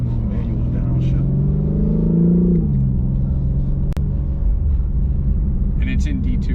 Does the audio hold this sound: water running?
no